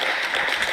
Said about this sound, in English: Clap, you can clap today.